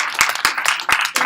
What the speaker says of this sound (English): I just want everybody to just give Dreena a hand clap.